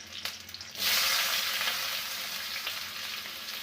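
Chopped onion dropped into hot mustard oil with frying garlic, chilli and cumin: a quieter crackle, then a sudden loud surge of sizzling that settles into a steady hiss, close by with occasional stirring and no voices.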